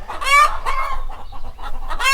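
Egg-laying hens on a small-scale farm, near a chicken coop, clucking loudly and close by, with a rapid run of overlapping squawks and cackles and no talk.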